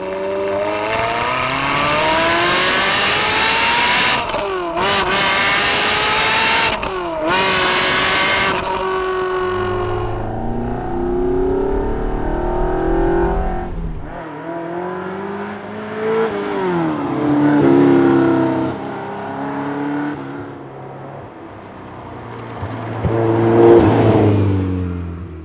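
A Ferrari Dino with an upgraded 400bhp V8 engine drives and revs loudly, rising and falling through gear changes with brief cut-outs, then its note shifts and fades to a lower, more distant drone before swelling again.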